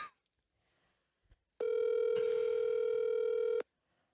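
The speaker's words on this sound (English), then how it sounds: "I'm just gonna call her real quick." A phone call on speakerphone produces a single steady ringback tone lasting about two seconds, clear and fairly loud, after a few faint clicks and quiet background.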